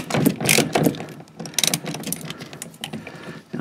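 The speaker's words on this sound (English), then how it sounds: "Now it's just a matter of getting these bolts loose." A ratchet loosens steering column bolts on a 1987 Oldsmobile 442 G-body, giving several close, loud bursts of rapid clicking separated by short pauses, with no talk.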